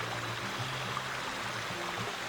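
Water spills steadily over rocks in a pondless stone waterfall, a continuous close rushing trickle with no talk.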